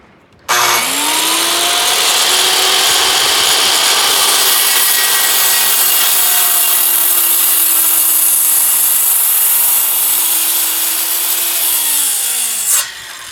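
A steady, loud hand saw rasps continuously through a wooden tenon for about twelve seconds, a dense even cutting noise that starts abruptly and stops just as suddenly.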